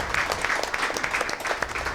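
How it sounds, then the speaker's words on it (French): A French-speaking audience at a women's event bursts into dense, steady applause, many hands clapping together at close range and holding a constant level throughout with no voices heard. "Merci bien, ça s'applaudit."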